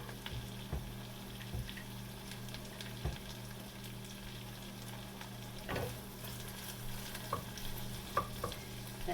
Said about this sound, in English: I'm going to also add my peppers.